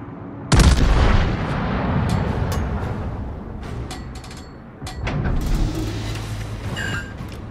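Heavy naval gunfire from a battleship in World of Warships: a loud, close cannon boom followed by rumbling, overlapping blasts and mechanical clatter, with several sharp shell reports through the rest.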